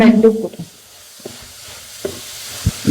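Soft sizzling of onions frying in a pan with salt, with a few scraping stir sounds from a utensil; fairly quiet and close, no talking.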